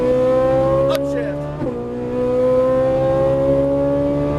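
A Ferrari 458 Italia engine holds a loud, steady high-pitched wail on a racetrack, dips briefly as the throttle eases, then builds again under hard acceleration.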